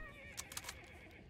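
Horses whinny faintly in the distance in the video game Hunt: Showdown, a few brief shrill bursts over quiet ambient game noise.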